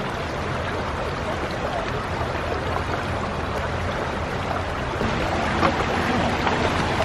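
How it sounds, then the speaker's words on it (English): Fast-flowing water of the River Medlock rushes continuously at close range, a loud, dense, unbroken roar that swells slightly toward the end. "The water's getting quite fast here now."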